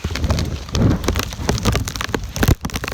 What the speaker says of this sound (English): We're starting to get heavy rain again.